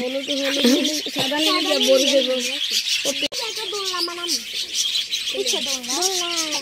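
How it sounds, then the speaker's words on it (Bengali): Caged birds at a market chirp and tweet in a dense, bright chatter, while people's voices carry on talking over the busy scene. "আমরা পাখি কিনতে আসছি"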